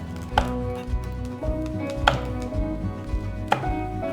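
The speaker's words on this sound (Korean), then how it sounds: "그다음에 고추는 어슷어슷하게 썰 거예요." A knife slices chili peppers diagonally on a cutting board in a few sharp, spaced strikes, each one a crisp, close thud-and-tap with no talking.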